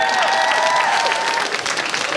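Studio audience at a television show taping cheering and applauding, a dense, steady wash of clapping and whoops filling the room, loud and close throughout, with some voices mixed in.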